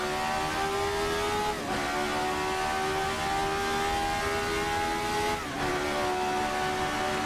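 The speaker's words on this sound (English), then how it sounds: "Full revs on that 3-liter V8." RSS Formula 79 race car with a 3-liter V8 screaming at full revs near 8,000 RPM, a loud continuous howl that drops briefly on two upshifts before climbing again, recorded close from the cockpit.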